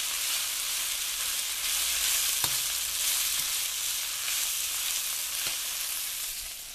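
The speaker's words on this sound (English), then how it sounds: "You can definitely tell this is a stir fry by the noises." Tofu stir fry sizzling steadily in a hot pan, a dense bright hiss throughout with a few faint clicks of the utensil against the pan, close and fairly quiet with no talking.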